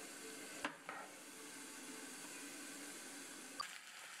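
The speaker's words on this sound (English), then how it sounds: "I just added the Alfredo sauce to the pasta in the bowl, and I'm just stirring that together" Pasta stirred together with Alfredo sauce in a bowl, a faint, soft wet mixing texture under a steady background hiss, marked by a few sharp utensil clinks against the bowl.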